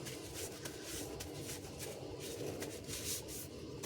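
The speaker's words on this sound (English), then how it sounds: "Wipe my gloves down." Gloved hands being wiped down with a cloth after resin work, a continuous close rubbing and scuffing with slight rhythmic strokes, moderate in level and heard alone.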